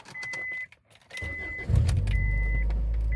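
A Honda Accord engine that has been sitting cranks after a few electronic chimes, then catches and settles into a steady, close idle.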